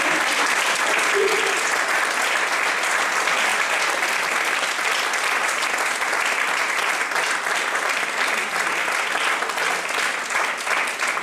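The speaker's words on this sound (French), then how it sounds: "j'aimerais bien que vous puissiez l'applaudir chacun" Steady, dense applause from a large conference audience, sustained at an even level throughout without letting up.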